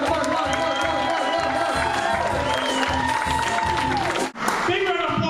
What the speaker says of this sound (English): Big round of applause for Tom Dean!